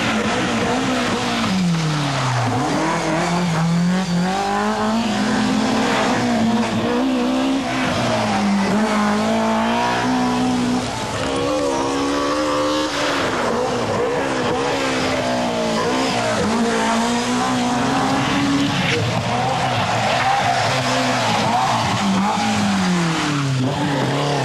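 A BMW E30 M3 rally car driven hard on a Manx Rally stage, its engine screaming and rising and falling through gear changes, loud and close, with some tire skidding and no talk.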